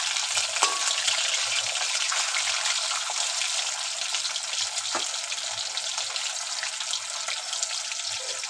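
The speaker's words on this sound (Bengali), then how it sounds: "মাছটা আমি হালকা ভাজবো, বেশি ভাজবো না" Hilsa fish frying lightly in a pan, a steady broadband sizzle and crackle held at an even level throughout, with a few faint clinks and bubbling pops in the background.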